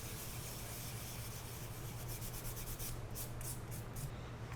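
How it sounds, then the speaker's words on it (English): Fine sanding stick rubbing over a prop gun replica, a soft continuous scratchy friction with faint, quick back-and-forth strokes, close and quiet with a low steady hum underneath. "I'm going to go back in with a finer sanding stick here"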